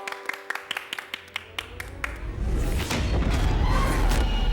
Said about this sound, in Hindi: चंदा दीदी के लिए जोरदार तालियां तालियां तालियां